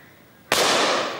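A single sharp shotgun blast fired at birds during an outdoor shoot, loud and close, with a long, broad decaying rush after the crack and no voices.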